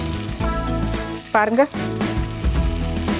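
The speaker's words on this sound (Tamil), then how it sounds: "அதை எடுத்து நம்ம வந்து பொரிக்க போகிறோம்" Paneer frying in a little oil in a pan, with a steady close sizzle running throughout under a voice talking.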